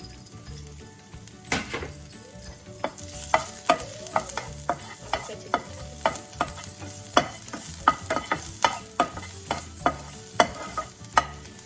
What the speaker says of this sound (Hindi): अदरक के बाद हम इसमें डालेंगे हम लहसुन और इसको भूनेंगे।